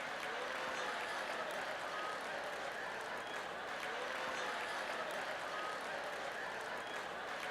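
A congregation claps during a church sermon, a faint, distant, even wash of many hands that holds steady throughout.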